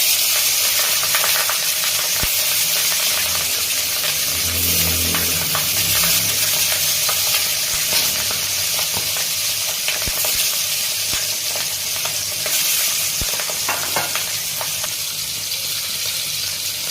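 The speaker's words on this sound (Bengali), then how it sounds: "তেলটা আমার গরম হয়ে গেছে একটু হলুদ দেবো সমস্ত মাছ ভাজার আগে একটু হলুদ দিয়ে দেবো কড়াইতে" Fish fried in hot oil in a wok after a little turmeric goes in, giving a steady, close, dense sizzle and hiss that holds evenly from start to finish with no talking.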